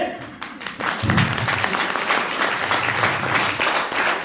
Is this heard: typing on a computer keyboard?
no